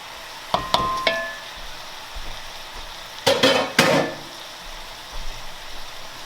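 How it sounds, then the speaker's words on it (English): Ground beef and pork browning in a pan for chili: a low sizzle broken by sharp clanks and scraping bursts as the meat is pushed around, close and intermittent. "We're gonna start browning the meat."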